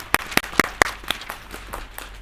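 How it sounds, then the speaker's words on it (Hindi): An audience claps for a child's Independence Day performance, several sharp, distinct claps near the start that thin out into a scattered, fading patter. "बहुत बहुत तालियां।"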